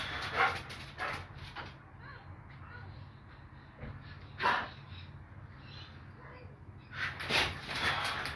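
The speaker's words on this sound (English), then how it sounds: "Crazy dog." An agitated dog gives several sharp barks and yips interspersed with whimpers, in bursts separated by quieter stretches, with a low steady hum underneath.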